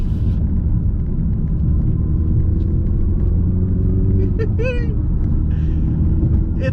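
A manual-transmission Mini John Cooper Works Countryman pulls away, its engine and road noise forming a steady, loud rumble inside the cabin, with a brief rising tone partway through.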